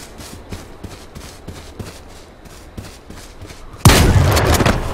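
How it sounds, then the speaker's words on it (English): Shots ring out in the video game H1Z1: after a run of soft, rhythmic footfall-like taps, a loud, dense burst of gunfire starts suddenly and keeps going. "He's still shooting at me though"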